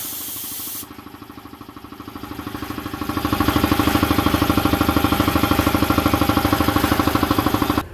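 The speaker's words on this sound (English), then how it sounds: "Alexa, turn on air compressor." An air compressor switched on remotely starts up and runs loud and close, its pumping settling into a fast, even pulsing chug that builds over the first few seconds.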